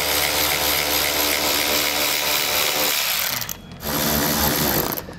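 A power tool drives out 8 mm screws holding a front fender liner on a 2022 Jeep, a steady loud buzzing whir close up with a brief dip before it resumes.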